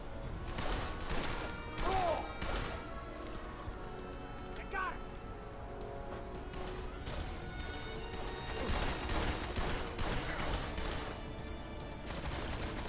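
Gunshots in the video game Blues and Bullets, several sharp cracks scattered through the clip amid game music and sound effects.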